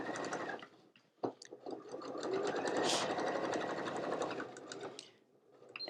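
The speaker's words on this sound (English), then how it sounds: "I'm just stitching close to the edge here" A sewing machine stitches a pouch casing to the outer fabric close to the edge, running in a steady continuous whir for several seconds between short stops, close and fairly loud.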